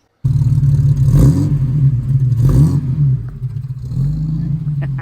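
A Chrysler Valiant AP6 engine revs hard twice in a row, each burst a loud, close mechanical surge over a steady rumbling idle, then settling back to a running drone.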